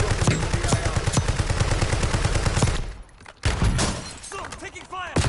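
Rapid gunfire in the video game Warzone, dense bursts of automatic shots crackling close and loud for several seconds, a brief lull, then more shots and a jet-like sweep, with voices speaking over the action.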